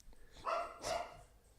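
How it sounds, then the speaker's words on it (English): A dog barks twice in the background, two moderately loud bursts a few tenths of a second apart in an otherwise quiet room. "my dog's barking in the background."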